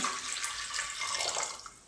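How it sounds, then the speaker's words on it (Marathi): Water pours steadily into a pressure cooker for a couple of seconds, a continuous close splashing stream with no voices. "तर याच्यामध्ये पाणी टाकायचे"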